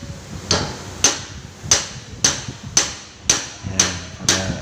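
Sharp, ringing hammer blows strike metal about eight times in a steady rhythm while replacing a Toyota Fortuner cross joint, each with a bright clang and a short decay, close by and loud.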